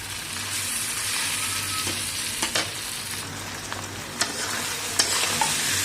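Brain (bheja bhaji) fries in a pan with a steady, hissing sizzle, broken by a few sharp clinks and scrapes of stirring.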